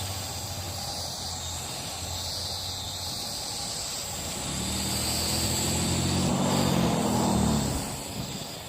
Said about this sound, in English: And you got a car coming.